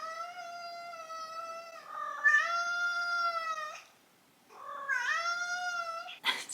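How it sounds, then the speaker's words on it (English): A cat screaming in two long, loud, drawn-out yowls separated by a brief pause, wavering and close, with a short sharp burst of noise at the end. "My cat was screaming."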